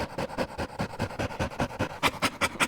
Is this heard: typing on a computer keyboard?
no